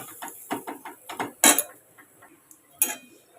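Salt, turmeric and grated ginger are stirred and fried in a pan. A utensil makes a series of close, sharp scrapes and metallic clinks against the pan, spaced irregularly with short quiet gaps between.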